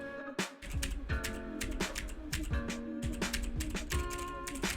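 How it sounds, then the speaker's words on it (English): Quick bursts of clicky keystrokes on a computer keyboard, close by, coming in uneven clusters over a steady hum. "type on your keyboard"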